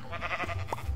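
Minecraft sheep bleating as a wolf attacks it, a short, close bleat with a quick wavering cry in the game, heard alone without talk.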